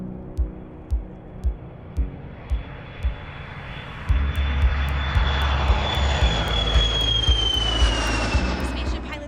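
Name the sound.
Virgin Galactic mothership aircraft Eve carrying spaceship Unity in flight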